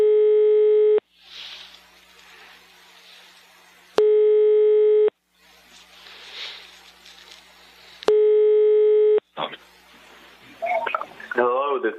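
Telephone ringback tones repeat three times with pauses while a call connects to Sweden, each loud and steady and about a second long, followed by faint room noise and then a voice speaking.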